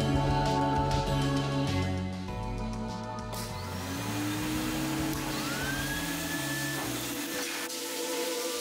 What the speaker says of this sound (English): she's gonna get blow dried